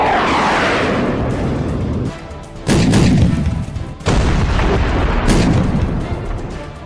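Heavy booms from US airstrike bombing in Syria roll out in repeated loud blasts, each followed by a long rumbling decay, with sharp new impacts landing a few seconds apart.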